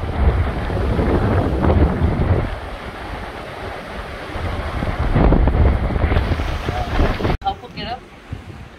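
Strong wind buffets the microphone on a rocky Puerto Rico coastline, a steady roar mixed with surf and broken by a sharp gust near the end.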